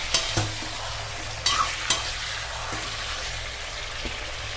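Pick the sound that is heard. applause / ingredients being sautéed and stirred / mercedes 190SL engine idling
ingredients being sautéed and stirred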